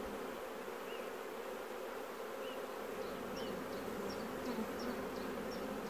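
Honeybees swarm around an open hive, a steady dense buzzing hum close by for the full length, with no speech.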